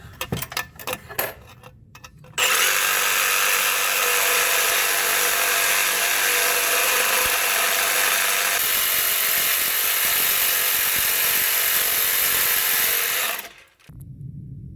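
Reciprocating saw with a carbide blade cutting through a seized lower control arm bolt on a fourth-generation F-body, a loud sustained buzzing grind running about eleven seconds before stopping abruptly.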